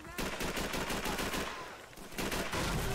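Dense, continuous gunfire from the video game Call of Duty 3 rattles without pause, loud and layered bursts of rifle and machine-gun fire with a brief dip midway.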